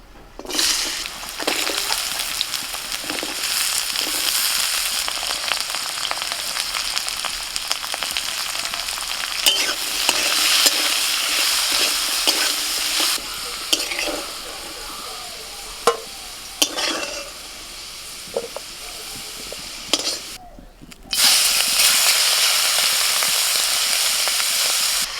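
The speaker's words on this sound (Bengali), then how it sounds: "কড়াইয়ে সরষের তেল গরম হয়ে গেছে, আলুগুলো ভেজে নেব।" Potatoes frying in hot mustard oil in a wok, a loud continuous sizzle with scraping stirs and occasional clinks of the utensil, steady throughout with a brief drop near the end.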